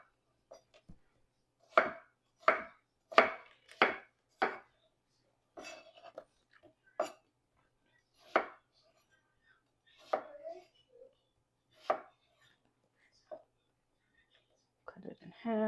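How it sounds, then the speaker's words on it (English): Knife chopping watermelon pieces on a cutting board at a waterfront picnic: a quick run of crisp, close chops, then slower scattered cuts with pauses, clear and fairly loud against quiet surroundings. "So let's just get some of these pieces of watermelon"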